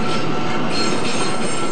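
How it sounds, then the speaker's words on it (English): New Matangi passenger train on the Johnsonville line in suburban Wellington, its wheels giving a loud, continuous high screech over rolling rumble, close by and unbroken throughout. "It's the sound of the new Matangi trains,"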